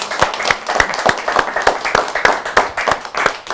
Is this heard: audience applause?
yes